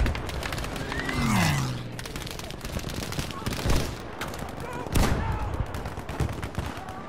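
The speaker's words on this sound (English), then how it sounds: "It's a fucking shotgun." Gunfire in Battlefield V, a cluster of sharp, loud shots with a couple of heavier booming blasts, mixed with a rising mechanical whine and surrounding combat noise while someone talks.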